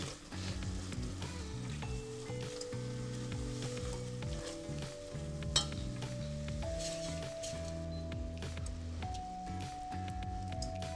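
Blueberries cooking in pots on a stovetop give a steady, close sizzling and bubbling throughout, with faint stirring noises and a tonal background hum layered over it, and no talk.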